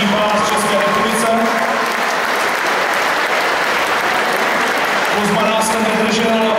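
A crowd at a GCF 21 MMA fight event around a big cage applauds loudly and continuously, with dense sustained clapping filling the whole stretch while an announcer speaks over it.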